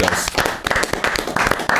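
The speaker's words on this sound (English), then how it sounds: "So just give a big round of applause for thanks" Live audience applause with scattered claps and taps at the close of a rugby, food and fashion talk show, a short burst of clapping with a voice briefly speaking over it.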